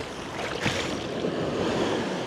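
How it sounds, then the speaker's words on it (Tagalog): Strong ocean waves surging and washing onto a beach in La Union, a steady broadband roar of surf that holds throughout with a louder crash near the start, heard close and alone. "Hindi ko na-expect na ganito kalakas yung mga alon."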